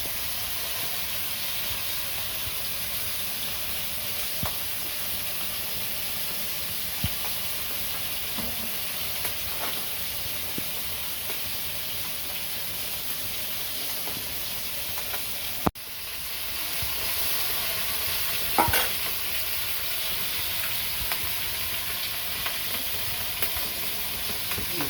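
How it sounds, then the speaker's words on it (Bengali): A Bengali vegetable curry of taro simmers in a pan, a constant soft hissing bubble with faint sizzle, steady and close, broken by a single sharp knock midway and a few small clinks. "আনাজ তরকারি ফুটাচ্ছে"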